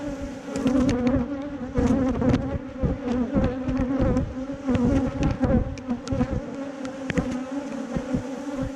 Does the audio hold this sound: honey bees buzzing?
yes